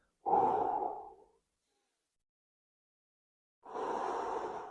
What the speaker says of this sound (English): breathing in through the nose, and then the key is a long, smooth exhale out of the mouth